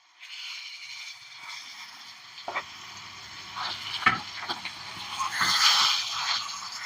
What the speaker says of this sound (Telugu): ఇక నూనెలో ఉడకాలి ఇది